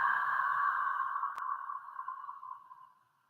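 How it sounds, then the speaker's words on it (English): A noisy ujjayi exhale pushed out through an open mouth makes a breathy, hollow, tonal rush. It starts fairly strong and fades steadily over about three seconds into silence. It is close, with no speech over it. "Close your lips, inhale through your nose. And open your mouth, exhale noisy."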